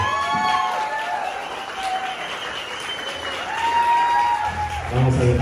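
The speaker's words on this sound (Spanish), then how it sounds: "Fuerte aplauso para ellos, por favor." Applause and cheering from guests greeting the hosts at a quinceañera party, a crowd noise carried under loud festive music with tonal melodies, sustained and lively across the whole stretch.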